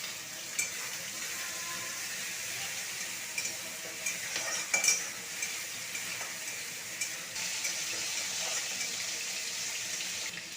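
Ground spice paste sizzles in oil with fried onions, a soft steady hiss broken by scraping stirs and a few louder clatters partway through.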